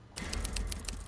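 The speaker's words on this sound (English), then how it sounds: "Oh, there's a typewriter here." A short clattering burst of typewriter key strikes from the save typewriter in Resident Evil 2, a quick rapid run of sharp clicks lasting about a second.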